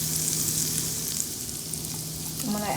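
Curry frying in oil in a pot for soul food curry chicken, a steady close sizzle running throughout without talk.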